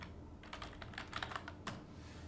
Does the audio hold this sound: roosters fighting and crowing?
no